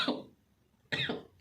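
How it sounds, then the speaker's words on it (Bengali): A person gives two separate, close coughs about a second apart, each a short harsh burst with quiet between them. "আমার খুব কাশি হয়েছে"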